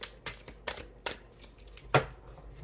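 An oracle card deck being shuffled during a reading, several quick riffling bursts in a row, close and crisp, with no talking.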